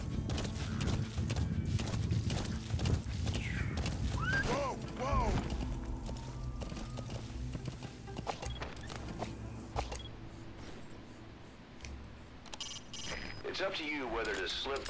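A horse gallops in the Metal Gear Solid 5: The Phantom Pain video game, with rapid rhythmic hoofbeats running throughout alongside game effects and a whinny, while people talk and exclaim over it.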